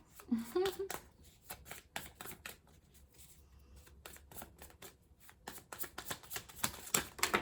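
Rapid riffling and slapping of a tarot card deck, several quick bursts close by with short pauses between them, and a voice murmuring near the start.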